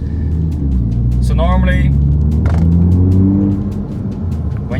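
MINI F56 John Cooper Works engine with a deep, steady idle rumble and low droning harmonics close by, while someone talks over it.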